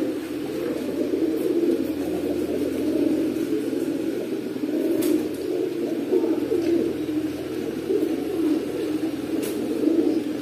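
Pigeons with stone-coloured eyes coo steadily in a low murmuring drone, several birds overlapping close by for the whole stretch with no talk.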